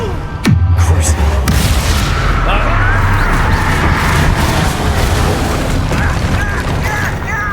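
The Confringo explosion spell in the Hogwarts Legacy video game goes off as a sudden loud boom, then leaves a long rumbling wash of debris and effects under spoken lines.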